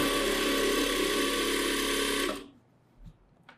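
A sewing machine stitching an umbrella churidar runs in one steady continuous whir, loud and close, then stops abruptly, leaving a couple of faint small knocks afterward.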